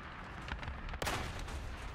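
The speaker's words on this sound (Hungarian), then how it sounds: "megint meghalok egy géppuska lövéstől" Gunfire in an online shooter video game sounds as a dense, rumbling barrage of distant bursts under a constant noisy bed, with one sharper crack in the middle.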